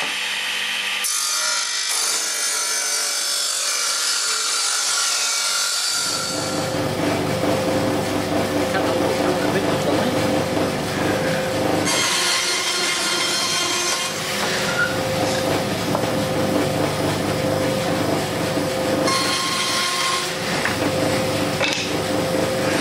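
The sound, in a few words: sawing wood into pieces for a shelf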